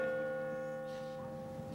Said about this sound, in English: This entire street shakes with the sound of that bell.